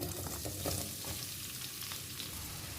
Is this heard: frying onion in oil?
yes